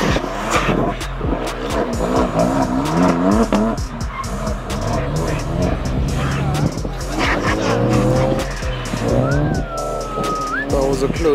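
A modified car skids around a skid pan with loud, sustained tire squeal and revving engine noise throughout, rising and falling in long wavering squeals with a sharp high screech near the end, while people talk over it.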